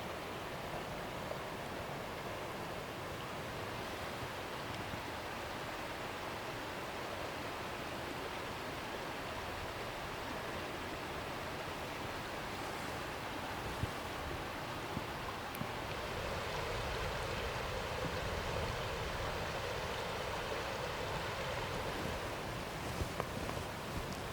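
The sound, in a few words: creek water flowing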